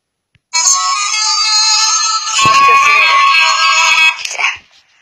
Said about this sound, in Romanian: Și un moș Crăciun de ăsta care cântă.